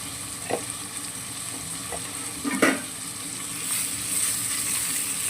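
Three large chopped tomatoes with turmeric fry in a pan under a continuous hissing sizzle, with a few scattered scrapes and taps from stirring, moderately loud and close.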